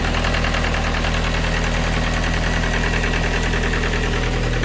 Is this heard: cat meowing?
no